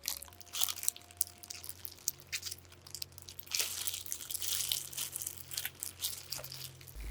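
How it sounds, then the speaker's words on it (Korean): Whole tomatoes squeezed and crushed by hand into a pot of vegetable stew, a soft continuous squishing and crinkling texture at low level with no voices. "손으로 으깨서 넣어줄게요."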